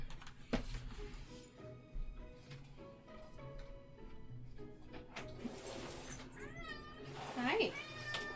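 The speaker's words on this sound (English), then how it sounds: "The cat wants in." A cat meows repeatedly to be let in, rising, drawn-out calls growing louder and more insistent toward the end, with a person talking nearby.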